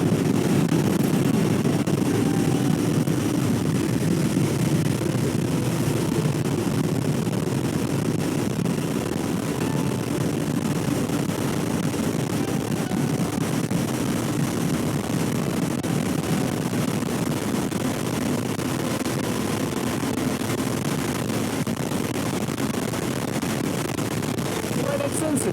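Steady heavy wind roar buffeting a rider on a Royal Enfield Interceptor 650 motorcycle at cruising speed, dense and unbroken throughout with engine rumble underneath.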